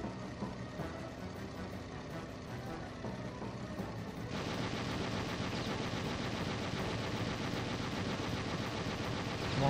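Rapid gunfire hitting the player's plane in a World War flight combat game, dense rattling bursts over a steady engine roar that grow louder midway.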